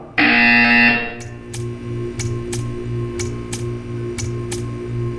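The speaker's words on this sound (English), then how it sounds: "You will hear a buzzer." A loud, harsh buzzer blares for about a second in the video game Portal 2, then a steady ticking continues over a low electronic hum.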